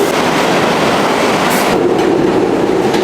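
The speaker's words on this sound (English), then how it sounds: "Time to get on the right train." A New York subway train runs loud and close, a steady roar of wheels on rails with rhythmic clatter and a brief high hiss partway through.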